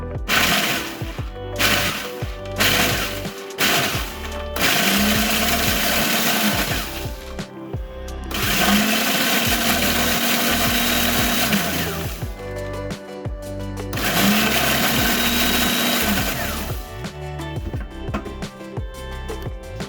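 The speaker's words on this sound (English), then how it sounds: "I've just added some into a food processor" A food processor grinds Doritos tortilla chips in loud, whirring bursts, with short pulses at first and then three longer runs, each with a rising whine, separated by brief pauses and no talking.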